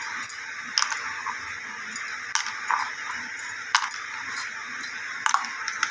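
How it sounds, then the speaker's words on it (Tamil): Ice cubes drop into a glass of lemon juice sherbet, giving a few sharp, bright clinks spaced irregularly across several seconds, close and fairly crisp over quiet background. "நம்ம ஐஸ் கட்டி ஆட் பண்ணிக்கலாம்."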